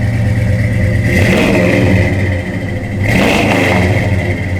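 A 1967 Plymouth GTX engine revs up twice, rising to a loud roar each time and dropping back, with mechanical clatter underneath.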